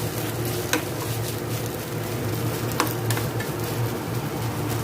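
A curry fries in a pan, giving a steady moderate sizzle with occasional sharp clicks and scrapes of stirring.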